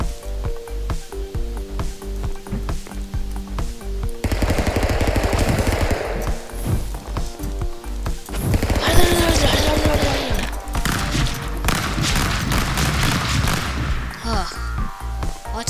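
Gunfire in a video game, a long run of rapid repeated shots, loud and close, continuing steadily throughout with game sounds layered in and some talking.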